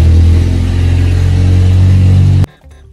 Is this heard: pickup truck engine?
yes